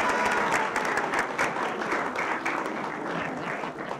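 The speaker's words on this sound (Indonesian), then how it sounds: "Tepuk tangan dulu." An audience on an Indonesian television quiz show claps, fairly faint but continuous, a dense patter of hands that holds steady for the few seconds without voices.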